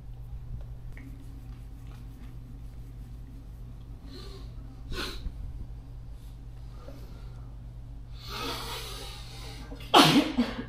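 Quiet room ambience with faint rustles, then one sharp, loud sneeze bursts out close by near the end.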